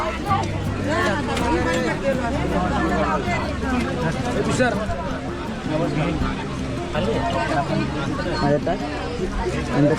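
Passengers packed aboard the crowded morning Diva train in Konkan, on the Khed to Panvel route, fill the carriage with dense, steady babble of overlapping voices and close talk, with rhythmic train rumble underneath.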